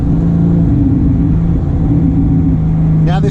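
A Porsche 997.2 GT3 RS flat-six engine droning steadily while driving, a loud, even cabin hum with tonal engine notes, briefly shifting near the end.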